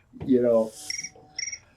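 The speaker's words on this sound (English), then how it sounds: "I guess the room felt like crickets were appropriate right there." A comedic cricket-chirp sound effect on a radio talk show: two short, bright, high chirp bursts, close and clear, following a brief vocal sound.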